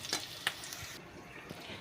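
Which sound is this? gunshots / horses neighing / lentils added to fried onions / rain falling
lentils added to fried onions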